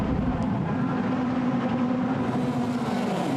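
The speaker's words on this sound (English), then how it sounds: "And they're revving up," Formula Renault Eurocup race cars rev on the starting grid at Silverstone, a loud, sustained engine drone with a steady pitch that holds throughout.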